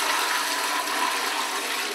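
A toilet flushed by pouring a bucket of water into it in Morocco gives a continuous rushing gush of water, loud and close, steady from start to finish with no voices.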